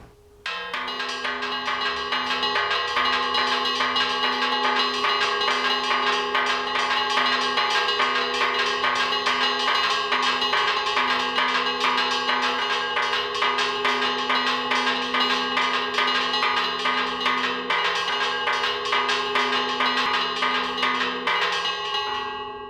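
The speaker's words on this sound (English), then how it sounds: "The celebration traditionally opens with the ringing of the mission bells to herald the swallows' arrival." Mission church bells at San Juan Capistrano Mission ring continuously and loudly, a dense layered peal with sustained ringing tones that carries on for the whole stretch without pause.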